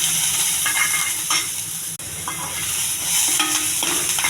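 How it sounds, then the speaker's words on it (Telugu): Chopped onion and curry leaves crackling in hot tempering oil for a ridge gourd curry, a continuous close sizzle with occasional stirring scrapes and one brief dropout. "ఉల్లిపాయ కరివేపాకు బాగా వేగాలండి."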